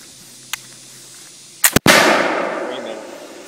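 A flintlock rifle fires outdoors: a faint flint click, then a sharp priming flash crack and a loud, close main report whose rumbling blast trails off over a couple of seconds.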